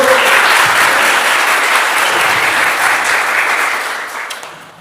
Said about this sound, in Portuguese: Podemos aplaudir o Senhor?